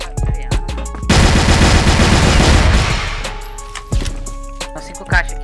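Rapid automatic gunfire rings out in a video game match, a dense sustained burst of shots followed by scattered single shots, loud and close, with players talking around it.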